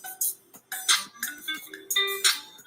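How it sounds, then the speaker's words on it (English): A phone ringtone plays alone as a melodic electronic pattern of bright repeating tones, in about four short bursts separated by brief gaps. "my phone ringing"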